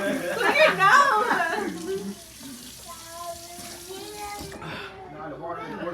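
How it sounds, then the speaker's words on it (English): Water runs steadily from a tap, partly buried under excited children's and adults' voices that talk and laugh over it throughout. "Now the water is working."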